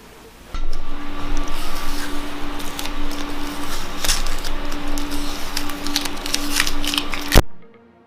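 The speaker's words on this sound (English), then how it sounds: "Time to weld her up." Intercooler pipework on an MX5 turbo build is welded up close, with a continuous crackling buzz that starts abruptly, runs for about seven seconds with a final pop, then cuts off.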